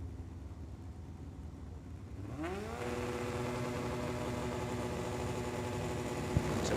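A 1977 Kawasaki motorcycle at a drag race, its engine note rising in a sweep partway through into a sustained loud roar over a background hum.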